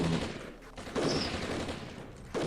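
Bursts of gunfire in the Armored Brigade war game, rapid rattling volleys broken by short gaps, fairly loud and close, with no talk over them.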